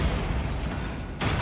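A Bombarda spell blasts in Hogwarts Legacy, a dense rumbling boom that rolls on for over a second before a sharp secondary burst near the end, loud and close with no talk.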